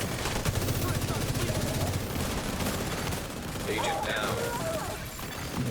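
Rapid bursts of gunfire from the Carnage weapon in a video game, dense and loud for the first few seconds, then continuing more unevenly as a voice talks over the mix.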